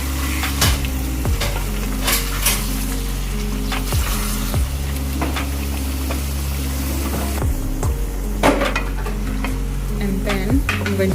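Raw mango, lime and garlic naga pickle is stirred in a cooking pot over heat, with repeated loud scraping strokes of a spoon against the metal over a constant bubbling sizzle, close and without speech.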